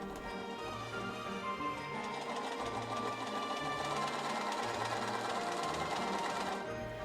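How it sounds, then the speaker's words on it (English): A sewing machine stitches along the waistband of a Victorian petticoat, a fast, steady mechanical whirring rattle held close and even for several seconds, with brief slight changes in pace and no talking. "I then pivoted and reversed again before sewing along the sewing line I chalked in along the top edge."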